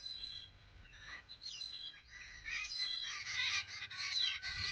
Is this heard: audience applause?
no